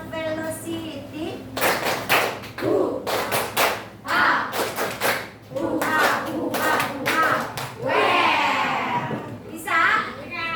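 A group claps out a 'tepuk semangat' cheer in a classroom, with sharp rhythmic bursts of claps coming in patterned runs, mixed with children's voices and a few thumps.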